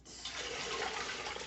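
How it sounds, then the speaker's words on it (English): Water pours steadily into a pot of beef for tamales, a close, soft, continuous rushing stream with no voices. "just add some water, just enough water to cover the meat"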